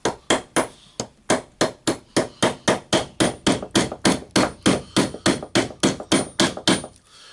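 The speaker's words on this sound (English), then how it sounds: "one of the easiest way for me, of course, to put the ball bearing on is to use the socket" A ball bearing is tapped into place on a Hilti TE 905-AVR demolition hammer part using a socket, about twenty sharp, evenly spaced metallic hammer strikes ringing close and loud in a steady rhythm.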